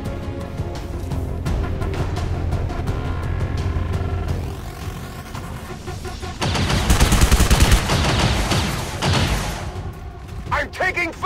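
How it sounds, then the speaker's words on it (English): Gunfire from the XCOM 2 video game, a loud sustained burst of rapid shots with crackling impacts mixed in with game music and effects, while a voice calls out during the firing. "I'm taking fire!"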